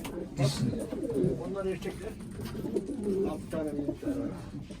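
Pigeons in a breeding coop holding the males, kept apart from the females, coo and murmur in soft repeated phrases close by, while people talk over them throughout.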